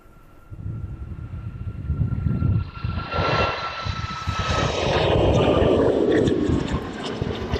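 An airliner takes off on runway 27 at East Midlands Airport, its engine roar building from a low rumble to a loud, sustained thunder as it accelerates down the runway on a windy evening.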